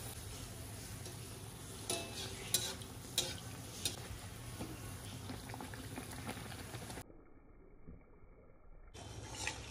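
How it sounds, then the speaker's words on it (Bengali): Malpua batter bubbles and fries in oil left over from frying luchi. The bubbling is soft and steady, with a few light clicks of stirring, and it drops away sharply near the end. "আমি কিন্তু লুচি ভাজার ওই তেলটার মধ্যেই মালপোয়াটা ভেজে নেব।"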